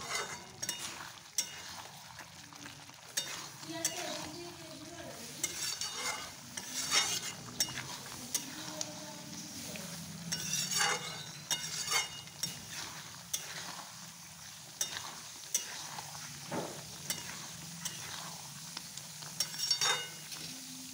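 Meat being braised and fried in a pan, a soft low sizzle under repeated scraping and clinking of a spoon stirring against the pot, fairly quiet and close.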